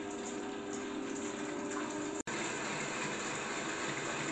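An electric mixer whipping egg whites for meringue, its speed turned up: a steady, even whirring drone that runs throughout with no voices.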